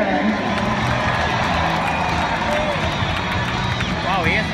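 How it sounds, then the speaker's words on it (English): A stadium crowd at a Detroit Tigers home game applauds and cheers Miguel Cabrera's lineup introduction, a loud continuous roar of clapping and voices with whistles rising near the end. "he hasn't gotten that much applause in a while"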